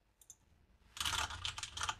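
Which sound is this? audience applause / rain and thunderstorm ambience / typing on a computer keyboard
typing on a computer keyboard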